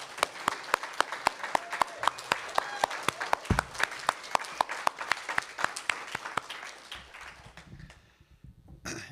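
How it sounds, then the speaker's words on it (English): Audience applause for poet Nathan McClain at a faculty reading, a dense run of sharp claps filling most of the stretch before thinning and fading out near the end. "But wait, more applause for Nathan McClain."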